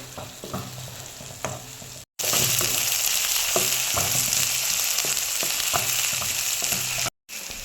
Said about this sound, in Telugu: అలాగే ఇప్పుడు ఇందులో సన్నగా తరుక్కున్న టమాటా ముక్కలు వేసుకొని బాగా ఒక 5 నిమిషాల పాటు కలుపుకొని మగ్గనిద్దాం